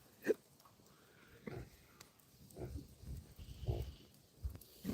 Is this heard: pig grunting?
yes